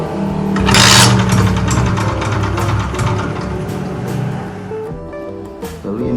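A Vespa Special PTS 90 small-frame two-stroke scooter with its original engine fires up after a hand start, then idles with a rapid buzzy putter close by before the revs drop and the engine falters near the end.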